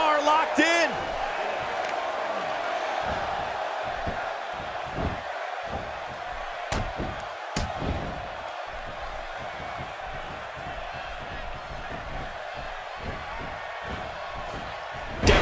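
Wrestling arena crowd in a dream match between Samoa Joe and AJ Styles, a steady dense roar of cheering with occasional sharp slams and whoops rising above it throughout.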